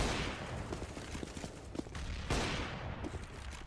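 Gunfire in Counter-Strike: Global Offensive on the Inferno map during a pro match, with bursts of rapid shots and sharp single cracks shooting through a wall, loud and busy amid game ambience.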